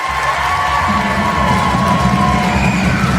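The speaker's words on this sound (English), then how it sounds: "Give them a round of applause, please." A school concert audience at a junior high spring concert applauds and cheers for the student performers, a steady dense wash of clapping with shouts and whoops, loud and close throughout.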